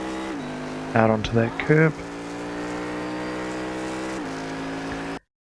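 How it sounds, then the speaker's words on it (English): A Cadillac CTS-V accelerates out of a corner at The Bend circuit, its engine a loud, steady, rising drone throughout. Someone talks briefly over it early on, and the engine note shifts near the end. "once I'm around the apex, start accelerating out"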